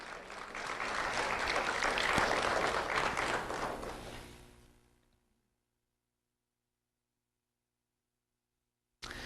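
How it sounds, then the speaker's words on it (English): Audience applause for an award recipient at a sheriff's office recognition ceremony, a sustained round of clapping that swells, holds for several seconds, then fades out into silence. "Let's have a round of applause for Vanessa."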